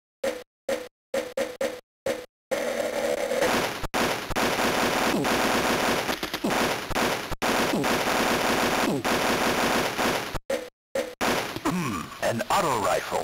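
An auto rifle fires in the video game Army Men: short bursts first, then long sustained automatic fire, loud and close, with a voice speaking partway through.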